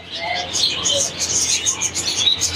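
Pairs of Gouldian finches in a bird shop's breeding setup chirping in quick, busy bursts of high tweets, close and continuous, with other birds and faint room noise underneath.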